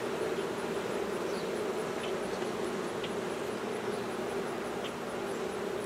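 A dense, continuous buzz of many honey bees around an open hive during maintenance, close and steady, with occasional brief higher whines passing by.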